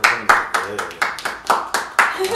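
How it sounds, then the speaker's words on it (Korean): A small group claps at a comedy mukbang show, with distinct sharp bursts roughly every quarter second, fairly close and loud, over faint talking in the background. "박수 한번 주세요"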